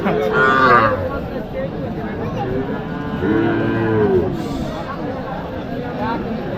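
Cattle low loudly and close by at a busy cattle and buffalo market. Two long moos rise over a background of crowd chatter and nearby talk.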